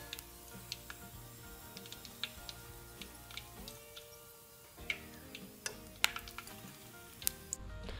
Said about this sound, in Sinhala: මේ විදිහටම ඉතුරු මස් ටිකත් මම ගැඹුරු තෙලේ බෙදගන්නවා.